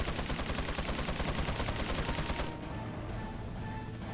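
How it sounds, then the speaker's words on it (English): A sniper rifle fires in the PC version of Resident Evil 4. The loud shot is set against rapid, dense game combat noise that cuts off sharply partway through, followed by quieter ambience. "Let's see if I can get the drop on him with the sniper rifle."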